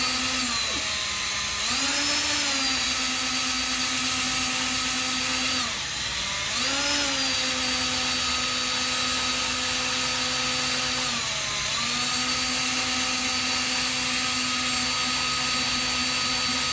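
A Pontiac junkyard engine turned over out of the car to prime its oil pump: a loud, steady mechanical whine and drone, dipping briefly in pitch three times as the rotation pauses and picks back up, no talking.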